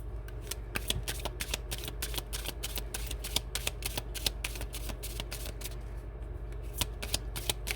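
Tarot cards being shuffled by hand, a steady close run of rapid riffling and flapping card snaps over a faint background hum, no talking.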